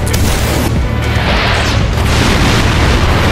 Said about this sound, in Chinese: 一发雀风雷攻鞭在天空犹如核爆